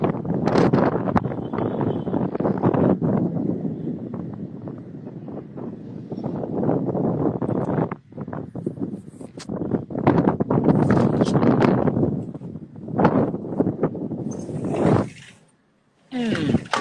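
Strong wind buffets the microphone outdoors on a pleasant evening, a loud, continuous roaring gust that rises and falls, briefly dropping out near the end; no clear speech.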